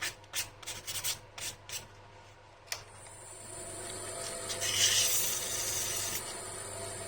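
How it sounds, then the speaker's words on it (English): Hand sanding a puzzle ball with 240 grit sandpaper: a series of short, quick rubbing strokes, then a longer continuous scrubbing pass, close up and fairly soft. "We'll clean up the inside with a bit of sandpaper"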